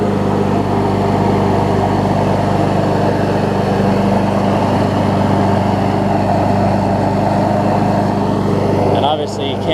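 A Craftsman push mower with a Honda engine runs steadily while self-propelling, giving a continuous loud hum. Someone talks over it throughout, and the engine noise drops away at the very end.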